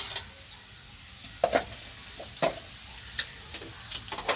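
Spice paste with Kashmiri chili powder and cumin powder sizzling in a pan while being stirred and scraped for Bengali bhoger labra, with soft frying hiss and irregular clinking stirring strokes up close.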